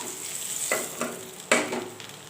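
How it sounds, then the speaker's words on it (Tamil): Hot oil and spice tempering with small onions hits a pot of lentils with a sharp sizzle, followed by a second louder splash of sizzling and soft stirring. "பாருங்கள் இப்போ நம்ம தாளித்து கொட்டியாச்சு"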